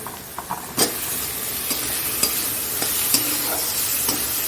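Spice masala with tomato being sautéed in a pan with a spatula, a steady sizzle and frying hiss broken by several sharp scrapes and clinks against the pan, close and loud with no talking.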